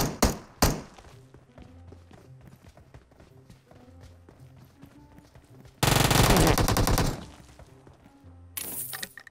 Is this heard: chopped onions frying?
no